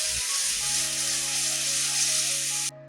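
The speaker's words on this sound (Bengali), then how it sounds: "এবার এটাও ভালো করে ভেজে নেবো, কষিয়ে নেবো আর কি।" Ginger-garlic paste fries in hot oil in a pan for a Bengali fish curry, a loud, steady, close sizzle and hiss with a low background hum that cuts off abruptly at the end.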